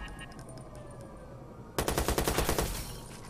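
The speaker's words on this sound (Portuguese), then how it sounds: "continua atirando na policial lá fora" A loud burst of automatic gunfire in the video game Watch Dogs, rapid evenly spaced shots that start suddenly after quiet game ambience and run for over a second.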